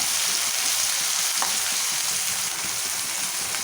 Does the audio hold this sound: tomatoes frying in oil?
yes